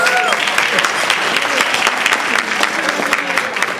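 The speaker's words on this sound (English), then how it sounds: "Yes, please give her a round of applause." A room of diners at a Toastmasters district conference dinner breaks into loud, sustained clapping, thick and close, with a few faint voices mixed in.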